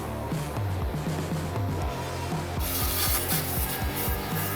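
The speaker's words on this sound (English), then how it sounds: "We also got this polisher sander." Milwaukee polisher sander working rust off a car body, giving a steady rubbing, rasping grind with a rhythmic pulsing pattern that grows brighter and harsher partway through.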